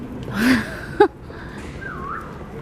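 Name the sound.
person whistling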